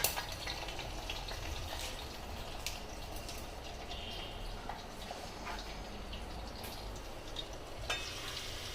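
Garlic and dried red chillies crackle in a pan as a tempering for palak dal (spinach lentil curry), a soft, even hiss with faint clicks and no voices.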